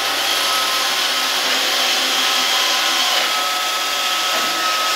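An iRobot Roomba robot vacuum cleaner runs nearby with a constant, loud whirring motor hum and a thin high whine, steady and unbroken.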